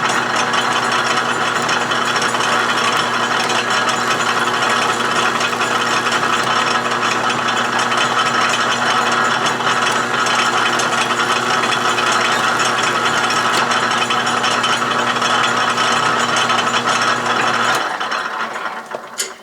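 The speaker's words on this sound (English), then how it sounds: "The lathe is in back gear, so we won't have quite such a rapid motion." Metal lathe running slowly in back gear with a four-jaw chuck, a steady loud mechanical whir and gear clatter that continues alone before stopping near the end.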